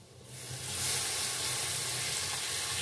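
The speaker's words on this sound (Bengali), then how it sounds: "2 মিনিট কষানো হয়ে গেছে, এইবারে আমি জল দিয়ে দিচ্ছি।" Water poured into a pan of sizzling pointed gourd and prawn masala, a loud steady hiss and sizzle that swells after the first moment and keeps going, with no voices.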